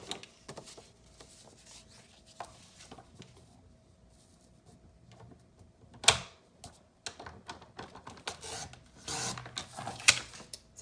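Scissors or a blade cut diagonally through paper or card while making a hot chocolate pouch, a series of quiet rasping snips and rubs with a sharper burst near the middle.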